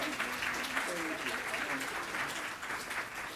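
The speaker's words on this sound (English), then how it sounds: "Please give many rounds of applause" Audience applause following a keynote address, steady dense clapping filling the room for several seconds, with a voice faintly speaking over it.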